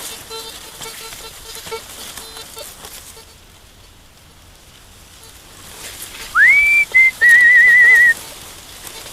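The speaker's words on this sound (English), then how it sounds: "Give a good whistle now and then, let the deer know I'm out here in case there is a hunter" A person outdoors in a cornfield gives two clear whistles, a rising note then a held wavering tone, loud and close over faint rustling background.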